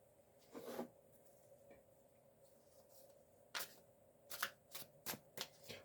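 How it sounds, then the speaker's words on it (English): A deck of cards gets shuffled close by, with soft riffles followed by a quick series of crisp, rhythmic snaps and bridging flutters near the end. "While I'm shuffling, feel free to think about your project."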